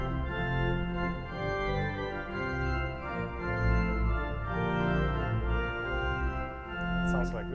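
Several pipe organ stops drawn together as a plenum on the Chancel Organ at National City Christian Church, a full, rich sustained chord progression with dense harmonics, steady and fairly loud, ending with a brief higher flourish.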